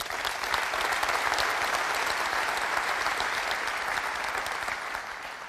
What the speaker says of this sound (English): So a round of applause for that big switch,